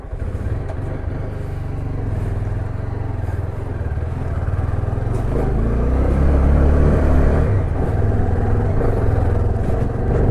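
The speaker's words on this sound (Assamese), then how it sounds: "আমি এতিয়া যাবলৈ ওলালোঁ, বাইকখন অলপ ক'ল্ড ষ্টাৰ্ট দি লৈছোঁ" A motorcycle rides off after a cold start, its engine a loud, continuous close rumble that swells as it gains speed, with steady road noise and no talking.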